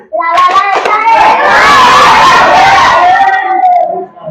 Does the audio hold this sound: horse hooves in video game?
no